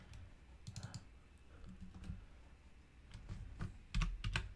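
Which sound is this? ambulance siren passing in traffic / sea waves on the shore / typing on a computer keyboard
typing on a computer keyboard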